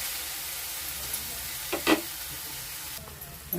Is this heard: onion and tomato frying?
yes